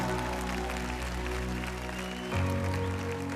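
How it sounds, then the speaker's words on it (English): Audience applause for contestants at the Miss South Africa 2017 pageant, a steady broad wash of clapping with a sustained musical bed underneath that shifts partway through. "Let's give them all a big round of applause."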